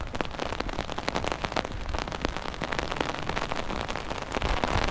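Rain patters densely on an umbrella overhead during a walk, a close, steady crackle of countless drops that continues evenly throughout.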